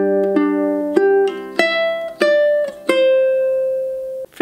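A ukulele picks out the opening measure of a song, about seven clear plucked notes in a lilting rhythm, the last one ringing out; close and solo with no voice.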